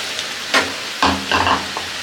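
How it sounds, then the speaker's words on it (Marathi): Large onion bhajis deep frying in oil over medium heat produce a steady close sizzle, broken by a few sharper scraping stirs of a spoon in the pan. "तर मी इथे काही कांदा भजी तेलात सोडून घेतलेली आहे आपण मीडियम गॅसवरती व्यवस्थित सोनेरी कलर येईपर्यंत तळून घेणार आहोत"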